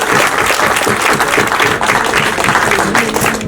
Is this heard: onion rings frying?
no